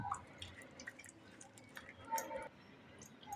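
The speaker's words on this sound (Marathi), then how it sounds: "हे बघा कसं पाणी गळतं" Faint drips and wet trickling as water runs off crab pieces held in a strainer, quiet and irregular.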